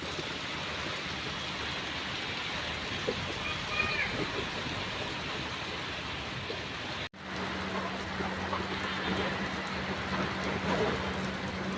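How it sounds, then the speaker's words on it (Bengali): Heavy rain falls after a storm with dark clouds and light wind, producing a dense, steady hiss of drops that runs throughout with one brief cut partway, after which a low hum joins it. "অবশেষে ঝড় তুফান কালো মেঘের ঘন ঘটার পরে বৃষ্টির দেখা প্রচুর পরিমাণে বৃষ্টি হচ্ছে"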